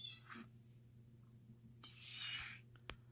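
A cat meowing from behind a closed door, muffled and fairly faint, with a short call early, then a longer, louder meow near the end, over a low steady household hum.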